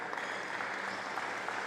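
A crowd at a Sri Lanka Basketball League game gives a sustained ovation, a steady wash of applause that sounds somewhat distant.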